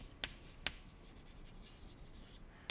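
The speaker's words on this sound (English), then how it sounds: "So let me write that down," Chalk or pen writing by hand during a maths lecture, three short sharp scratchy strokes spaced apart over a quiet room hum, with no talking.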